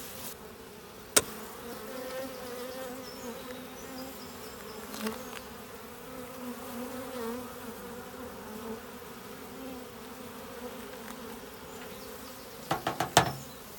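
Honeybees return into a 10-frame Dadant hive, a steady soft buzzing hum throughout, broken by a few sharp clicks and knocks near the start, midway and at the end.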